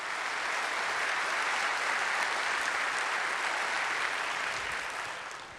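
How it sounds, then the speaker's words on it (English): Dense, even applause from a large audience at a city public-affairs event honouring a tourism team, a continuous wash of many hands that holds steady and then begins to fade toward the end. "Let's give them all a round of applause, guys."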